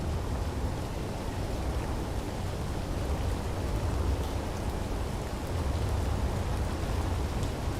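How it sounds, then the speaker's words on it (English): Steady rain falls in the Space Engineers game, a dense, even hiss of drops on surfaces with a low rumble underneath, continuous with no one talking. "Oh, it's raining."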